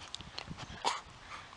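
A husky outdoors lets out a few faint, brief whimpers and soft snuffling sounds, very close by against a quiet background.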